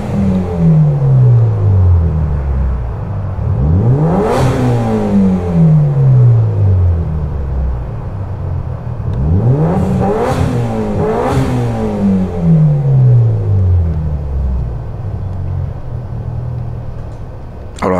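A Mitsubishi Lancer Evolution engine in Gran Turismo 7 revs hard several times, rising and falling in loud sweeping pulls with a steady rumbling idle between them, with no talk over it.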